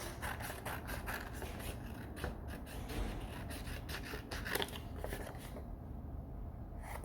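Scissors cut out a paper pumpkin pattern for a craft project, giving quiet, close, repeated snips and rustling paper in a steady rhythm with no talk.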